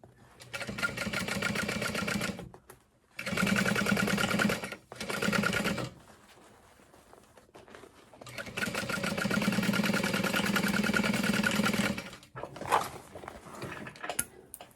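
A sewing machine stitches a bag in bursts, with several runs of steady rapid whirring broken by short pauses, close and moderately loud and without speech.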